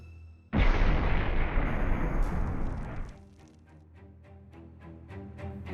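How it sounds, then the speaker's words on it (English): A sudden loud explosion bursts out in a backyard, roaring for a couple of seconds before fading into scattered falling soil and debris and lingering rumble. "Suddenly, the backyard exploded, sending soil and ants everywhere."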